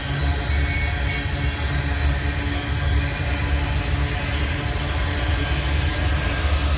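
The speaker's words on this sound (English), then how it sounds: "That's an AC locomotive." AC locomotive with rigid trucks passing on a rail line through Abbeville, South Carolina, a loud, steady, close rumble and roar of rolling wheels throughout with no talk.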